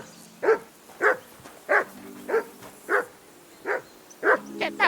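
A dog in the video game Kingdom Come: Deliverance II barks repeatedly in a steady rhythm, about eight sharp barks, loud and close.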